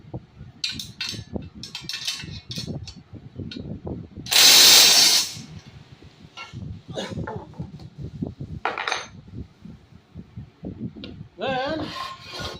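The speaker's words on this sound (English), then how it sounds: "So we're going to go ahead and tighten this up." Ratchet clicking in short bursts while tightening bolts during assembly of a Harbor Freight tire changer, with metal clanks, a loud rushing burst in the middle and a voice speaking briefly at the end.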